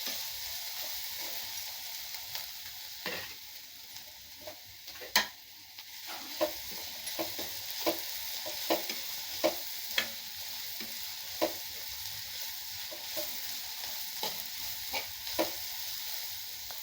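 Poha upma ingredients sautéing in a pan, a steady soft sizzle with repeated sharp scraping and stirring clicks of a spoon against the pan, close and fairly quiet, no talking.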